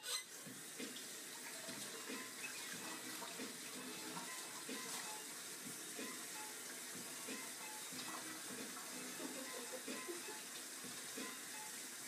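Hot water runs steadily from a kitchen faucet into a sink, a continuous close splashing stream lasting throughout with small clinks and handling noises, no speech.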